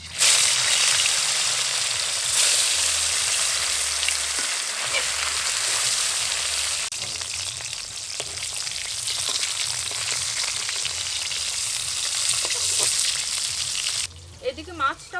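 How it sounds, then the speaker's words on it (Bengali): Fish frying in hot oil in a pan after aubergine, a loud, dense, continuous sizzle and crackle close by that eases briefly near the end. "এই তেলের মধ্যেই মাছ দিয়ে ভেজে নেব।"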